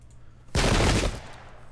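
Musket volley fired by a regiment in an American Revolution battle video game at Brandywine Creek: one loud, sudden crackling burst of massed gunfire lasting about half a second, then a fading tail.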